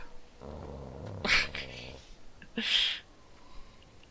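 War dog in Dragon Age: Origins growling low and rough for about two seconds, followed by sharp snapping bursts, close and alone without talk.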